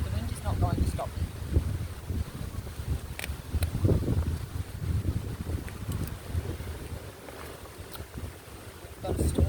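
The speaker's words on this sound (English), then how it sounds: "Oh, this wind." Outdoor wind buffets the microphone in low rumbling gusts that rise and fall for several seconds as a storm approaches, loud and close, with a voice talking underneath.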